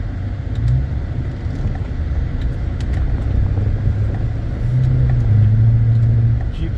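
A 2014-2018 Chevrolet Silverado truck on a test drive, heard from inside the cab as a steady low engine and road rumble that swells slightly toward the end, with no talking.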